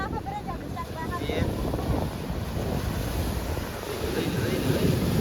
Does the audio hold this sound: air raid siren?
no